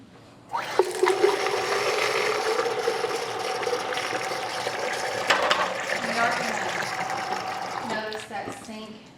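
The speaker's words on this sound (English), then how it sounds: "Okay, so I'm going to put some more water in here." Tap water pours into a container at a kitchen sink during quick cookout food prep, a steady gushing stream that starts abruptly and runs about eight seconds with a faintly rising tone as it fills.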